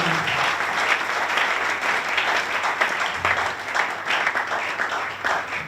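Church congregation clapping steadily during a worship service, a dense, continuous wash of applause from many hands with a faint murmur of voices underneath, lasting the whole stretch.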